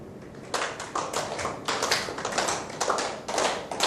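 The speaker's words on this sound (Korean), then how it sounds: "박수를 쳐보시는데 맞춰서 한번 쳐보세요" A seminar audience claps together, the scattered hand claps quickly drawing into a shared rhythmic pulse of sharp, close beats.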